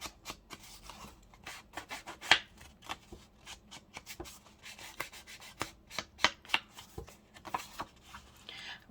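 Paper edges being inked for a daisy-themed craft project, a run of soft, quick rubbing and dabbing strokes close by, with small sharp taps scattered throughout and no talking.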